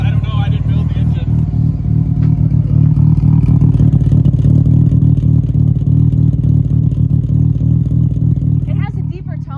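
A Mazda RX7 rotary engine with a stainless exhaust idles and revs nearby in a loud, low, pulsing drone, with people talking over it.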